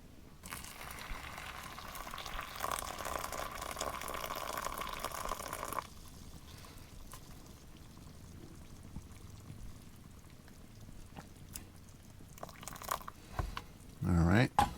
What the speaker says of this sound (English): we might as well get that water in this